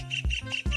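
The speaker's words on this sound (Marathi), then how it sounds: "तुम्ही पक्ष्यांचा किलबिलाट ऐकू शकता का?" A bird gives two short, harsh squawking calls in quick succession, close and fairly loud.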